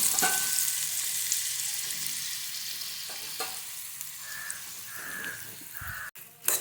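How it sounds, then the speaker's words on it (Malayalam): Torn pappadam frying in hot coconut oil gives a steady, loud, close sizzle that runs throughout, with a few faint crow caws in the background. "വെളിച്ചെണ്ണ ചൂടായതിനു ശേഷം കീറിയ പപ്പടം നമുക്കതിലേക്ക് ഇട്ട് കൊടുക്കാം"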